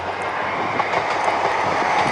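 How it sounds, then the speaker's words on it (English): A train rolls past on railway tracks near a level crossing at Pen y Dinas, giving a continuous close rumble with faint wheel clatter throughout. "Oh, there's the train."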